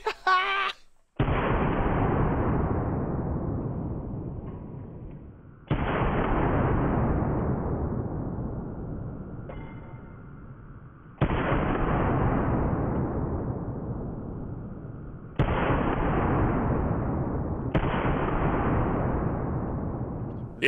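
Five loud, booming rifle gunshots ring out several seconds apart, each followed by a long decaying echo that fades before the next blast.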